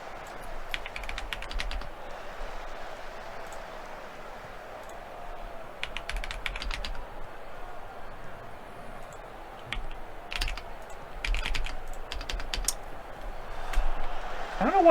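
Computer keyboard typing in clustered bursts of quick, light key clicks, close but fairly soft, separated by quieter stretches over faint room noise.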